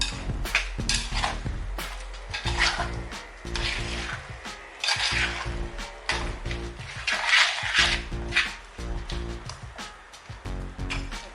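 A spoon stirring dry prawns, raw mango and drumstick in a pot for a Kerala dry prawn dish, with repeated close clinks and scrapes against the metal in an uneven rhythm.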